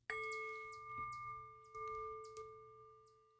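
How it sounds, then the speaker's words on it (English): A small bell rung during a tarot ritual gives one clear, close strike that rings on with a long, pure, slowly fading tone, with faint handling noises under it. "And by the sound of the bell,"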